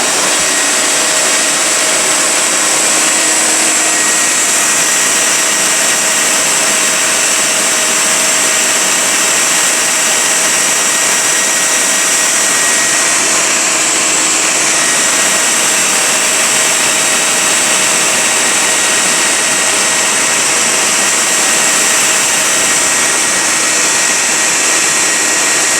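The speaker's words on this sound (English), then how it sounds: "We'll turn on the vacuum now and we'll start vacuuming off that loose." A vacuum cleaner sucking loose honeybees out of a family room ceiling, a steady loud whirring drone running unbroken for the whole stretch with no talk over it.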